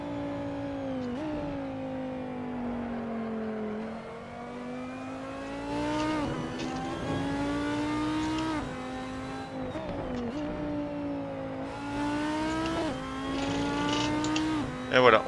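Race car engine in the Assetto Corsa video game at Kyalami, revving steadily through the gears, with pitch drops and hard braking downshifts into second gear across a loud, continuous lap segment.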